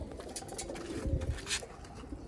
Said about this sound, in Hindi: छत वाला कबूतर है।